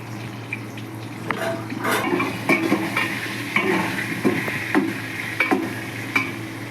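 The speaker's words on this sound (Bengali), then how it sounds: "আলুটা ভাজার জন্য আমি দেব অল্প একটু নুন আর অল্প একটু হলুদ দিয়ে আলুটা ভেজে তুলে রাখবো" Potatoes fried with a little salt and turmeric sizzle in hot oil while a utensil scrapes and taps the pan in an irregular stirring rhythm, close and steady.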